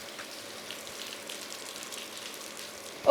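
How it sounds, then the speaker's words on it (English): A heavy Scottish downpour heard from inside an open shed makes a faint, steady hiss of rain with no voices. "we're in a complete downpour and there's thunder and lightning as well"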